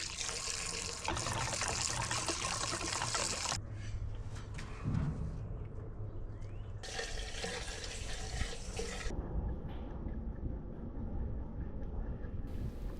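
Fluid drains from an Insley excavator's hydraulic tank in a continuous splashing pour. It is faint and steady, with louder rushing stretches that come and go.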